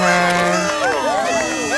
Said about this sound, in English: Everyone's cheering for her.